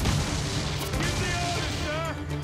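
Ship cannons in Assassin's Creed IV: Black Flag fire in heavy booming volleys with crackling blasts and a rumbling low end. Voices can be heard under the gunfire.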